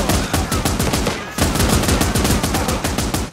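Rapid bursts of gunfire in the video game Last Train Home, automatic weapons firing in dense rattling volleys with a brief pause, loud and continuous throughout.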